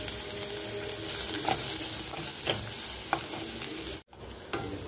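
Cabbage, spring onion and green chili sizzle in hot oil in a pan, a close, steady frying hiss with occasional stirring scrapes and a brief dropout near the end.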